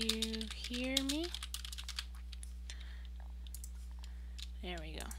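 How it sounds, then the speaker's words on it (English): Quiet typing on a computer keyboard, a faint scatter of soft clicks beneath a steady hum, with a person speaking briefly at the start and end. "Let me type here."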